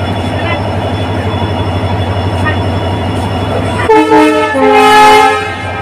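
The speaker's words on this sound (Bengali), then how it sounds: "তো গাইজ ছেড়ে দিল ট্রেন" A train pulls out of Bamanhat station with a steady, loud rumble of wheels and engine, then a horn blast sounds near the end over the running noise.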